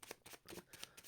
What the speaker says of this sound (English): I'm going to do another shuffle.